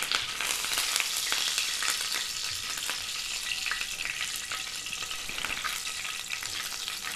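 Curry leaves and a pinch of asafoetida roast in hot oil in a pan for a gwar fali dish, with steady close sizzling and crackling throughout, no talk.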